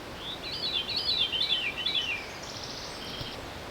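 A Veery sings a fluting, downward-spiraling phrase, clear but somewhat distant over faint outdoor hiss, then the song stops and quiet background remains.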